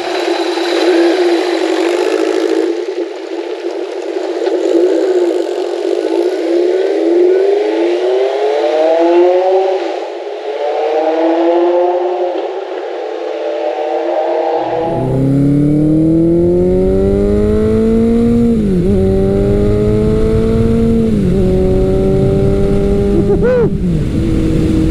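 A 1983 Suzuki GS1100L motorcycle engine roars loudly while riding, climbing through repeated gear rises and shifts, rising and dropping in pitch with wind rush, heard close from the bike.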